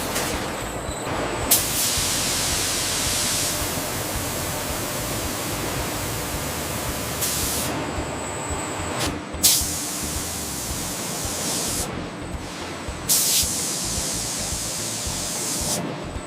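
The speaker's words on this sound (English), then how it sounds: "the high precision of robotic water jets" Robotic water jets scoring baguette dough in a large industrial bakery, a steady broadband hissing spray that runs continuously for the whole stretch, with brief dips and small bursts as the jets cycle on and off.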